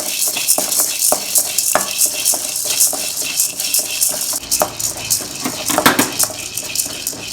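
Chana dal is dry-roasted in a pan while being stirred. A spoon repeatedly scrapes and rattles against the metal, and the dry lentils clatter in an irregular, fairly close rhythm. There is no talk.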